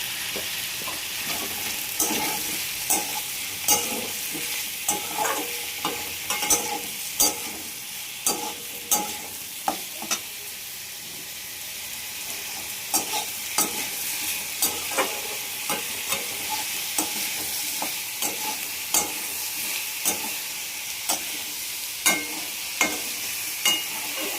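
Vegetables fry in a pan with a steady sizzle, punctuated by regular sharp scrapes and knocks of a spatula stirring, close and without speech.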